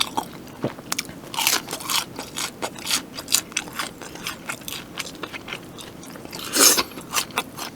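Pelicana cheese balls being chewed close to the mic in a Korean mukbang with beer snacks: a steady run of soft crunches and wet bites, moderately loud and up close, with no talking.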